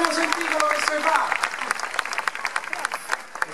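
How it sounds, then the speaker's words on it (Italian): Audience applause at a 2013 family concert in Ariccia: a loud, dense patter of clapping runs throughout, with voices over it at the start. "Adesso facciamogli pure un applausino così tanto per tutti."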